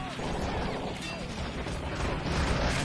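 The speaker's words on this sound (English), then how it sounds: "I hear a tank." Russian tank moving in the World War II strategy game Men of War Assault Squad 2, a steady, loud mechanical rumble and clatter that lasts throughout, mixed with the broadband noise of battle.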